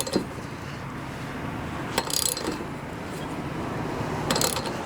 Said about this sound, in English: Now it's important to know the torque specification, which is 35 foot-pounds. So, I have my torque wrench out.